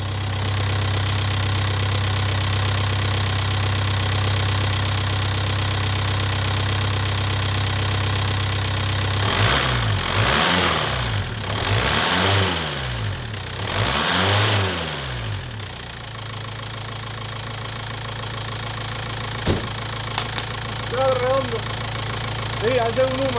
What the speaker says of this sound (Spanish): Voy a acelerarlo, a ver si no suena el ruido que hacía.